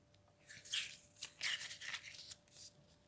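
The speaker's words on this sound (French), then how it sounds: "Voilà comment mélanger les cartes." Tarot or oracle cards being shuffled by hand make several quick papery riffling bursts, close and soft, separated by brief pauses, with no voices.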